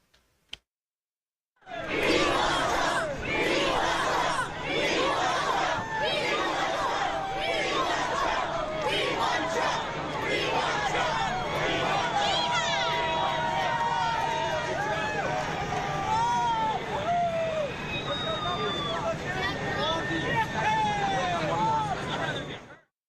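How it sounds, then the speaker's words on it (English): A crowd outside a McDonald's chants in loud rhythmic bursts, voices rising and overlapping in a strong repeated cadence, close and continuous after a quiet start, with shouting and crowd noise filling the street. "you can hear the crowd chanting right there outside this McDonald's"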